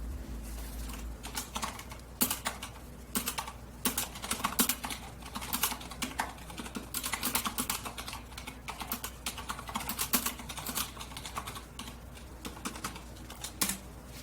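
Typing on a Corsair mechanical keyboard fitted with Cherry MX Silent linear switches, a steady stream of soft, muted keystrokes at an even pace, close and fairly quiet.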